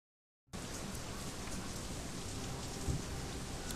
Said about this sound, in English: Foul, oily water rains down from above, mixes with the filth and offal and swill of the streets